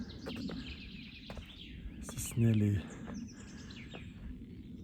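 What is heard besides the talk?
birds singing in a forest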